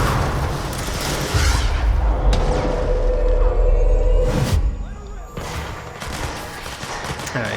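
Dense gunfire crackles through a firefight in the video game Control, with rapid shots and heavy booms that ease off briefly near the end before more shots ring out.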